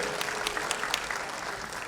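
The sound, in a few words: applause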